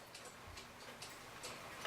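A Hebert Herr 8-day clock movement ticks quietly and steadily, close up, with an even rhythm of about two beats per second and no talking.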